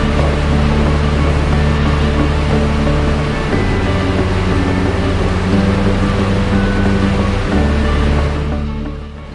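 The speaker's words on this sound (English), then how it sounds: "the trade winds picked up and brought the seawater splashing onto our boat" Seawater surging and splashing against a sailing boat in strong trade winds off Patagonia, a steady loud wash of spray and water noise with a low rumbling undertone throughout, easing slightly at the end.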